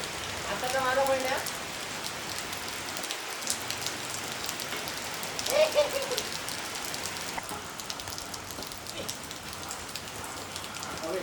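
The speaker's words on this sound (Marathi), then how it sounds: "पावसाला सुरुवात झाली आहे" Steady rain falls on hard surfaces with a dense, even patter that continues for the whole stretch, and faint voices sit under it.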